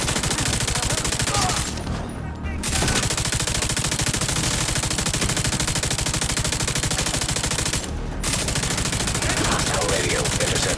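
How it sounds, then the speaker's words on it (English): Sustained automatic gunfire in a video game, a dense rattling barrage that fills nearly the whole stretch, broken only by two short pauses, loud and close. "I hear gunfire."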